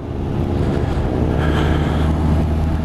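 A Honda CB650R four-cylinder motorcycle engine runs with a loud, steady low drone, mixed with rushing wind on the microphone and no speech.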